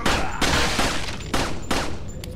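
Pistol gunfire in the Resident Evil 4 video game, four or five sharp shots spaced roughly half a second apart, each a loud crack with a short decaying tail over steady game background noise.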